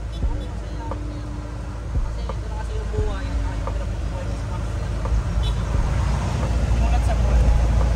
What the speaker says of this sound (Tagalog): Ito yung mga lumang jeep, no?